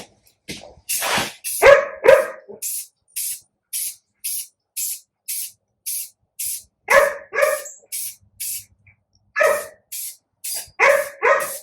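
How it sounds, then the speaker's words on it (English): Rust-Oleum flat spray paint from a rattle can is misted on in short, evenly spaced hissing bursts. A dog barks and yips nearby in a few clusters between them. "Rust-Oleum flat. We're going to mist it on there and see what the finished look looks like"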